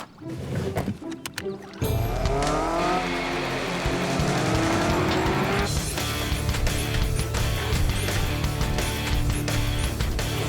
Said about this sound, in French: Et maintenant, montez dans le véhicule autonome.